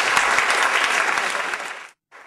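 Audience applause welcoming lecturer Yoshi Tsukamoto at a university architecture lecture: dense, steady clapping from a full room for about two seconds, then breaking off abruptly, with a brief faint resumption.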